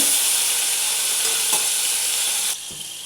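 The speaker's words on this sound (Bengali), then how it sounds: "পনিরটা একটু আমি লালচে করে ভাজবো" Paneer pieces frying in hot oil give a dense, steady sizzle, close and loud, with a few stirring scrapes before the hiss eases slightly near the end.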